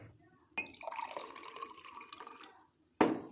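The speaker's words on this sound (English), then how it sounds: "And now add half glass of water." Water poured into a glass partway to make a hydrogen peroxide solution for tartar removal: a steady, close trickling pour lasting about two seconds, followed by a sharp knock.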